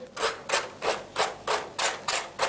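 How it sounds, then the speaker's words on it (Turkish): Steady rhythmic rasping of sandpaper rubbed back and forth on wood, eight even strokes close up with short pauses between. "Şimdi burada bir sert uçlu zımparam var."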